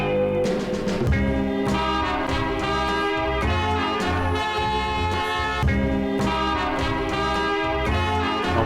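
Chopped sample slices are triggered from the pads of an Akai MPC X, producing continuous looping music with chords and a punchy low end, with no talking.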